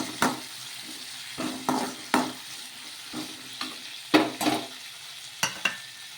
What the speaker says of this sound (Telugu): పుదీనా వేసేసుకొని ఒకసారి బాగా కలిపేసుకున్నాము